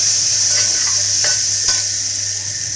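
Ground small onion paste fries in a pan with a loud, steady sizzle, and a few sharp scrapes and taps of a stirring spoon ring out against it at close range, with no one talking.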